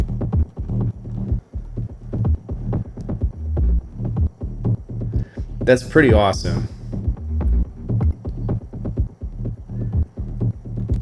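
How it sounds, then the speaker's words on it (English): A throbbing synth bass pulses in a steady rolling rhythm, loud and close, while a voice speaks briefly over it. "it makes it sound a little bit more like a rolling bass line"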